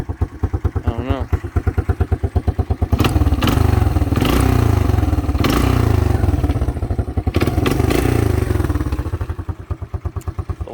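A Honda Fourtrax ATV engine idling low with a rapid, uneven thumping beat, loud and close, with rattling and a slight rev in the middle, under a person talking.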